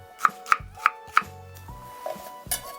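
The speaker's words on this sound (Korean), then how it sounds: "양파는 이 정도 사이즈로 좀 굵직하게 썰어주면 됩니다." A knife cuts half an onion into thick pieces on a board, four crisp evenly spaced chops up close, followed by a few quieter clinks and knocks.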